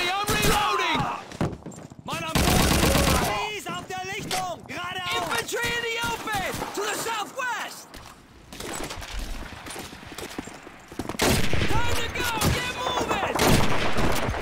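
Machine gun fire in Call of Duty 2, rapid bursts rattling through a dense battle soundscape with shouting voices, dense rolling gunfire filling most of the stretch, louder at the start and again near the end.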